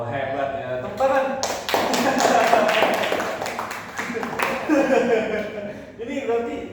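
A group in a university guidance-counselling class claps in scattered, uneven bursts, mixed with overlapping voices talking through the clapping.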